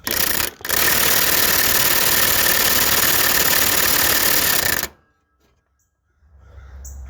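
Impact wrench loosening a pulley bolt on a Troy-Bilt mower deck while the pulley is held, a loud continuous buzzing rattle lasting about five seconds with one brief dip near the start, then stopping into near silence with a faint rumble returning.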